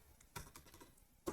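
Light taps on a computer keyboard while entering regex code in Rust, a few scattered keystrokes close up and faint, with no voice.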